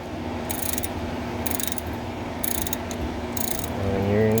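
Ratcheting wrench work loosening and backing out wheel bolts on a 1985 Chevy C10 truck front hub, with four evenly spaced bursts of clicking over a steady mechanical background, close and moderately loud.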